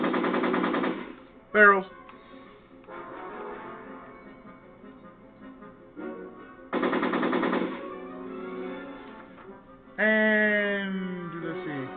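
Rapid bursts of video game gunfire from Back to the Future play in several loud stretches, separated by quieter game sounds, with someone speaking briefly.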